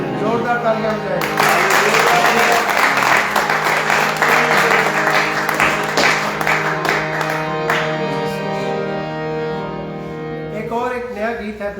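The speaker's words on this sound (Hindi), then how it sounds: "जोरदार तालियां हो जाए।" A church congregation at a praise and worship service bursts into loud, sustained applause. It lasts several seconds over a musical backing, then fades as the music continues.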